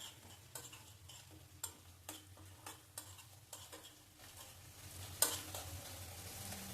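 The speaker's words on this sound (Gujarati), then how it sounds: "ગ્રેવી હલાવી લઈ" A utensil scrapes and taps against a pan in repeated strokes, stirring gravy for dum aloo, with a faint sizzle underneath and one sharper clink near the end.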